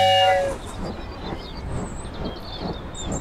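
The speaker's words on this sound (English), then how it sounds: "Choo-choo train is coming to the station." A train rolls past with a steady rumbling clatter and hiss after a brief horn-like tone at the start, heard fairly close and continuous.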